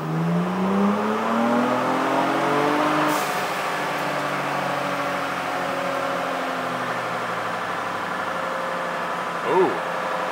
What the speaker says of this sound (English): So we're gonna do the same thing, fifth gear.